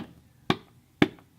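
Duct tape stretched quickly, picked up by a camera microphone: two sharp, thin bursts about half a second apart, each with a brief ripping crackle, alone.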